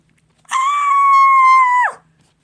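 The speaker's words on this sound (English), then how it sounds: "The scream was louder than that, by the way" A single loud, sustained scream at a New Year's countdown, rising sharply and holding steady for over a second before dropping off abruptly, heard alone against near silence.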